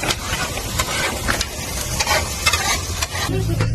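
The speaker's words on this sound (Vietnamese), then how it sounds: "Đồ hộp hâm trên bếp ga rất nhanh nóng" Canned food is heated and stirred in a pan on a gas stove, giving a continuous sizzle and frying hiss. Scraping stirring noises rise and fall over it, close by, with no talking.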